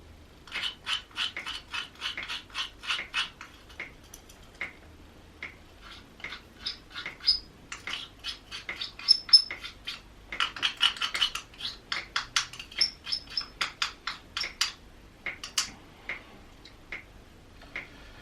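A small spoon mixes powdered resin with dry incense ingredients in a bowl, giving rapid, light ticking clicks in uneven bursts with short pauses. The sound is close and quiet, with no talking.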